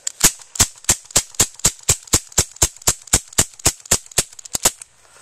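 Rapid string of BB gun shots, around eighteen sharp metallic cracks in steady rhythm, each pellet striking a durable metal target trap from a roughly 450 FPS BB gun, close and loud with no talking.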